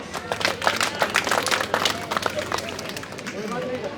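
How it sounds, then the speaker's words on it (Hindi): Applause from an audience at a village ceremony honouring talented children, a steady patter of many hands clapping with crowd murmur mixed in. "तालियां बजाओ।"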